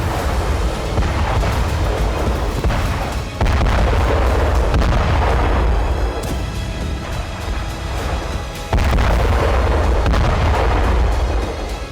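Bomb explosions in the Russia-Ukraine war: heavy, rumbling booms roll continuously, with deep low-end energy and sharper blasts hitting around four and nine seconds; loud and dense, with no voices.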